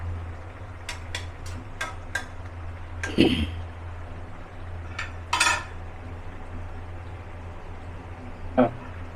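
Fish stirred into ash gourd greens in a pot, heard as a series of light utensil ticks and a few sharper metallic clanks against the pot over a quiet background.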